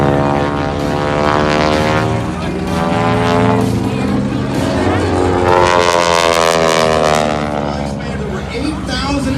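A propeller airplane flies at the Redlands, California air show, producing a loud, sustained engine drone with rich harmonics that rises and sways as it passes close by.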